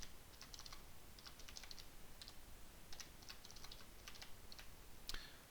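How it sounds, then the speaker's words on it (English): Typing on a computer keyboard while entering a password on a Windows Server 2012 R2 system: quiet, irregular bursts of light key clicks across the clip, with a sharper keystroke near the end and no talking. "I'm simply going to type password in lowercase"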